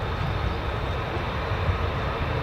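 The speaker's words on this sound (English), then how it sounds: "There we go, F-22 Raptors." An F-22 Raptor fighter jet's engines give a steady, dense broadband roar at an air force base, constant and unbroken without letup.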